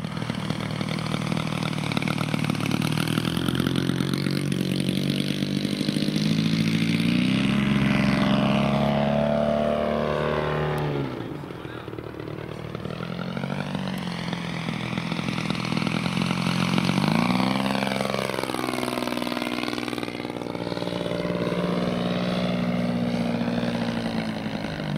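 A DLE 111cc flat-twin petrol engine on a 40% scale Super Cub model plane idles steadily and loudly at close range, its propeller drone holding an even pitch with slight wavering throughout, and no talking.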